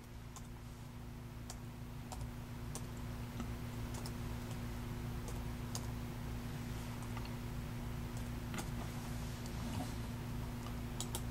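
Keys tapped on a computer keyboard while a search term goes in, light irregular clicks scattered over a steady low electrical hum, fairly quiet and close with no talking.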